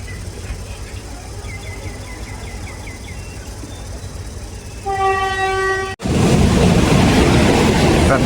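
Thai local train 447 on the Surat Thani to Sungai Kolok line sounds its horn in a long, loud blast, then its running roar suddenly surges up close and stays heavy and constant.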